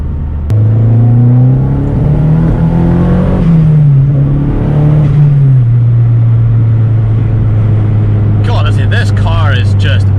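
A Vauxhall Corsa B with a C20LET 2.0 16V turbo engine drives along a road, its loud, steady droning engine note rising and falling slightly with throttle, heard from inside the car, with a voice briefly near the end.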